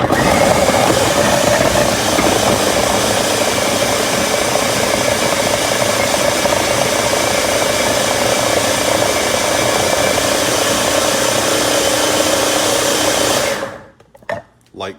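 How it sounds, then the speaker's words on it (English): Close by, a blender purees fruit and vegetable scraps with a loud, continuous whirring drone for about thirteen seconds before it cuts off, leaving a few brief knocks. "But what I do is I blend this stuff up."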